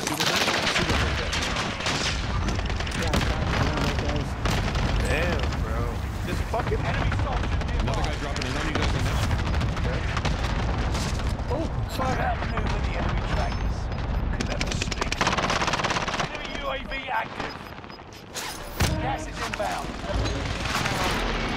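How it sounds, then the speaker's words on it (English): Heavy gunfire from the Warzone video game, with dense, continuous rapid bursts and loud automatic shots over game noise, while players talk throughout. "I'm getting shot from somewhere else."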